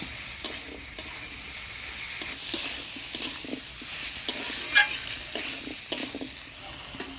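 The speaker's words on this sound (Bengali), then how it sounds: "কাটলি বিচিগুলো দিয়ে ভালো করে কষে নিব মশলার সাথে" Boiled jackfruit seeds stir-fried with spice paste for a soybean curry give a steady close sizzle, broken by a series of sharp spatula scrapes and knocks against the pan.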